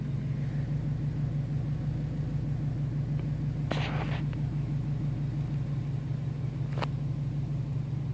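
A 2007 Subaru STI with a manual gearbox idles and creeps slowly backward out of a parking spot, a steady low engine rumble with a faint whine and a couple of brief clicks or squeaks, no voices.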